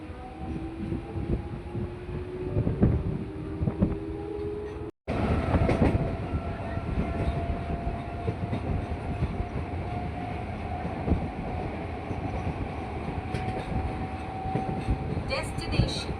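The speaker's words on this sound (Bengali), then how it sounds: "আর আমাদের ট্রেন এসে পৌঁছালো জালালসি স্টেশন।" Howrah to Amta local train rumbling along the tracks with steady rail noise and a rising tone, plus a brief cut in the sound partway through; faint voices are mixed in.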